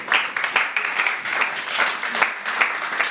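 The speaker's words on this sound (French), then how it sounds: "Acclamons encore une fois." A church congregation at a thanksgiving memorial service claps in steady rhythmic unison, bright sharp claps repeating about three per second, fairly close and loud with no talk over it.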